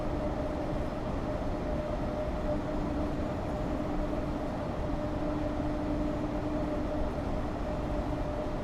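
A Freightliner Class 90 locomotive hauls an intermodal freight train from Crewe Basford Hall toward Carlisle in Train Sim World 6, a steady rumbling cab drone with a faint sustained hum and no talking.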